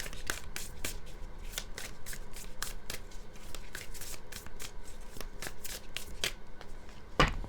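A deck of Color Goddess Casting Cards, an oracle deck, is shuffled by hand in a steady run of quick riffling card flutters and soft slaps, close and continuous throughout, with no speech.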